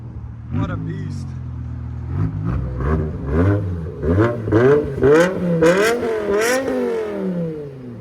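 A BMW M5 V10 engine revs repeatedly up and down in loud, rising sweeps, close by, with several throttle blips building in pitch over the stretch.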